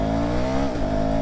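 A KTM Duke 350 motorcycle accelerating hard, a loud, close, steady engine drone rising in pitch over about a second.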